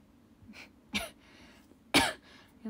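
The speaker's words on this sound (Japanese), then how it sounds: "喋りすぎるとマジ咳出るんだ" Two sharp, close coughs about a second apart, the second louder, with a softer throaty sound before the first.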